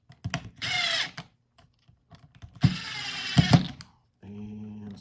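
A power drill whirs in short bursts as it drives screws fixing an RV travel trailer water pump, with ratcheting clicks and a lower-pitched final run near the end.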